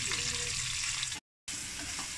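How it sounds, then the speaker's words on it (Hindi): Two chopped onions sauté in spice-infused oil for stuffed tinda, a close, even hiss of frying cut by a brief moment of total silence before the sizzle resumes, with nobody speaking. "उसी मसाले वाले ऑयल में हमने जो है वो प्याज अपना डाला है"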